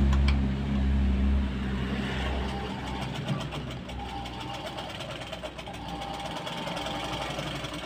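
A sewing machine runs steadily while stitching a blouse, its continuous motor hum and rapid needle clatter close up, with someone talking over it throughout.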